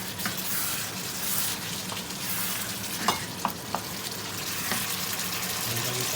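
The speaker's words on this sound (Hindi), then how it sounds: "हम मसालों को भी हल्का हल्का हिलाते रहेंगे ताकि" Spices stirred and frying in a pan for chicken chana daal, a steady sizzle with a few soft scraping stirs and clicks close by, no talking.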